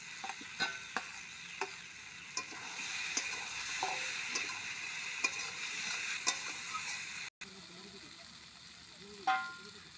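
Chopped, fried elephant-foot yam (mankochu) going into a pan of chicken curry, with steady sizzling and repeated stirring taps of a spoon against the pan.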